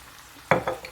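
Pasta sauce pours into a pan of cooked ground turkey with a brief wet splat and soft sizzle, a couple of quick sloppy plops following close and clear.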